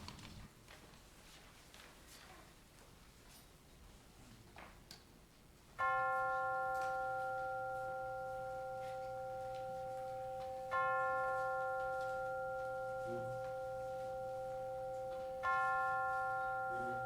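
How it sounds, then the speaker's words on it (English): Chimes ring at a church service: three clear, sustained strikes a few seconds apart, each a bright multi-tone ring that slowly decays into the next, alone after a quiet stretch of room noise. "And now let us center our hearts and minds with the ringing of the chimes."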